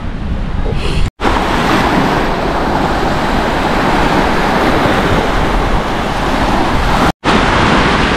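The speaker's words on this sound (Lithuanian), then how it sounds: "Banguoja jūra." Baltic Sea waves breaking at the Melnragė pier in Klaipėda, a steady loud wash of surf with wind buffeting the microphone throughout, briefly cut twice.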